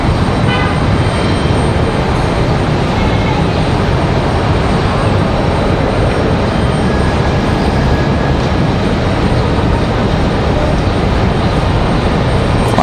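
A CRJ regional jet landing at Raleigh-Durham International with flaps down and spoilers up, heard as a loud, steady broadband engine and airframe roar held through the whole stretch with no speech.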